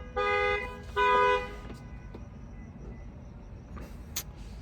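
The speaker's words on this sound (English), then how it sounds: "someone's alarm was going off." Two short blaring electronic tones of a phone alarm sound in quick succession during a symposium, then fade to a quiet background with a faint high chirp near the end.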